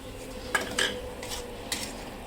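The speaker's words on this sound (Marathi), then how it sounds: "ह्याला पण छान असं परतवायचं आहे" French beans being stirred in a pan while sautéing, with a few faint scraping and clinking spatula strokes over a low background hum, no talking.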